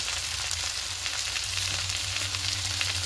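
Coriander, cumin, turmeric and chili powders with salt and a little sugar sautéing in a pan with spinach and prawns, a steady close sizzle with soft stirring scrapes and no talk.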